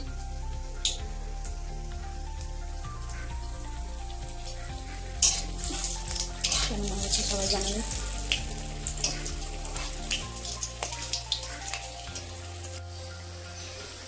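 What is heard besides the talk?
chops frying in oil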